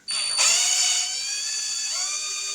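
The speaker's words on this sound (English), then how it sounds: "drills it out by hand" A drill whines steadily into the side of a generator carburetor, with a tonal motor pitch that rises as it spins up, then slows and shifts lower as the bit bites into the metal. Close, loud, and alone, with no talk.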